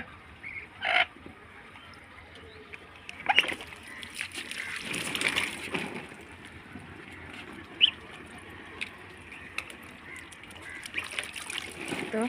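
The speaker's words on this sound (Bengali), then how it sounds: "সাদাটাকেও পানিতে গোসল করে আনবো" A chicken is dunked in water in cold winter weather, with several close, sharp splashes at irregular intervals, smaller sloshing between them, and occasional bird squawks.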